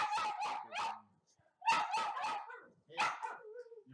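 Several dogs barking in close, rapid bursts of three or four yips each, loud and near, separated by short pauses with a faint whimper between them.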